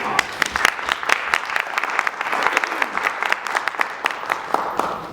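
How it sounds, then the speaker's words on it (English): An audience applauds panelists at an HBCU-related event, a dense, steady round of clapping from a crowd, heard close and lasting several seconds. "Let's give our panelists a round of applause."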